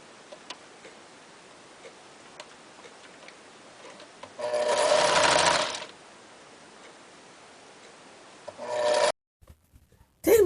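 Sewing machine stitching the side seam of a cloth rag doll, a steady rapid ticking run interrupted by a louder burst of mechanical whirring, then another short burst before it stops.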